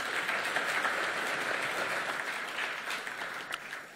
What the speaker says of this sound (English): A round of applause to our panelists.